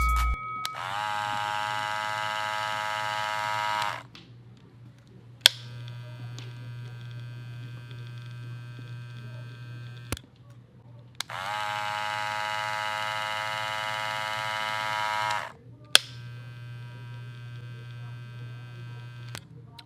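Andis Cordless Master hair clippers switched on in two bursts of about four seconds each, a loud steady buzzing whine with a click at every switch-on and switch-off, set against a continuous low mains hum with no talking.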